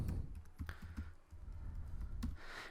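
Keys tap on a computer keyboard as a password is entered, giving a quiet, uneven run of light clicks close at hand.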